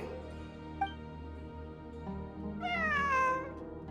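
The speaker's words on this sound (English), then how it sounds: "I'm not hearing things. It really is a cat." A cat in the video game Genshin Impact meows a few times, small brief mews and then a longer, clear wavering meow near the end over faint ambient game sound.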